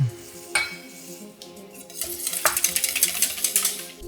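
Cheesecake ingredients are whisked in a bowl, a quiet start, then a brisk, rhythmic run of metallic scraping and clinking strokes growing louder toward the end.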